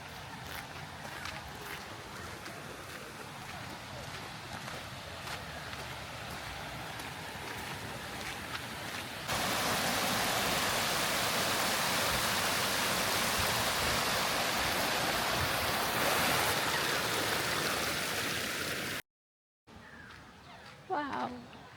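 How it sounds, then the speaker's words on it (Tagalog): A waterfall at a Brisbane picnic spot roars as a continuous broadband rush, growing louder partway through and holding steady before a brief cut and a quieter tail. "Ito lang tayo sa waterfalls."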